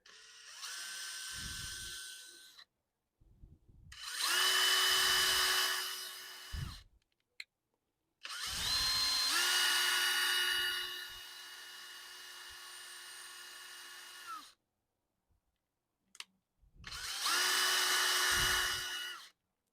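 A power drill driving screws into pallet wood whirs in several bursts of a few seconds each, close by, with brief quiet gaps between runs.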